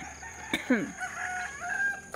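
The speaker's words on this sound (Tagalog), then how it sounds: "Ang daming manok." A rooster crows nearby with a rising, drawn-out call, set against a steady background hum and faint chicken clucking.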